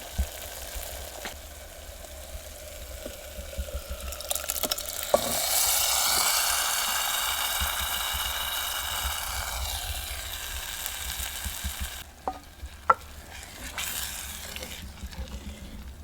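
Boiled urad dal simmers in a spiced tempering in a pot, giving a soft continuous sizzle and bubbling that swells midway, with scattered light clinks and taps of a utensil, close and fairly quiet, with no talk.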